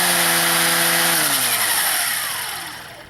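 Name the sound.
Ryobi 18-volt brushless string trimmer running on low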